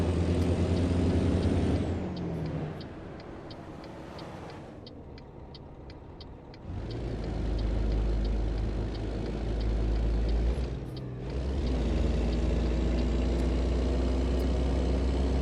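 A heavy truck engine in American Truck Simulator rumbles loudly, dips in revs as gears change, then roars back up, with a short hiss like an air brake release between shifts; steady and close throughout.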